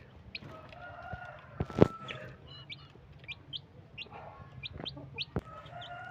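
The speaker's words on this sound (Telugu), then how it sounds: "ఇది పెద్ద కోడి" Hens cluck and chirp in short bursts close by inside a net enclosure, with a sharp louder call near the start and scattered clucks continuing throughout.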